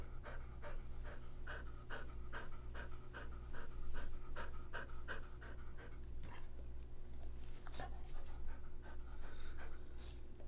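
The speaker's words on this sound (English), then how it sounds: "Look at this dog." A dog panting at an outdoor street protest, rapid rhythmic breaths running steadily throughout over a constant low background hum, fairly close.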